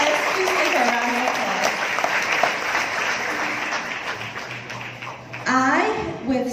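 Audience applause at a Mrs. Sri Lanka World pageant greets a former Mrs. World, continuous clapping under music and voices, then a louder burst of sound near the end.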